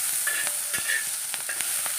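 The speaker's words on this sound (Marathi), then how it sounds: "तवा चांगला भाज पहिला तापवून घ्यायचा आणि मग त्यामध्ये शेंगा टाकायच्या त्यामुळे शेंगा पटकन भाजल्या जातील" Green bean pods roast on a hot griddle, a bright close sizzle broken by repeated scraping and stirring strokes, steady throughout with no voices.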